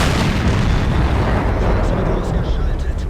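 A tank's ammo rack detonates in World of Tanks, a loud, dense roaring blast that fills the whole stretch with rumbling noise and no clear break.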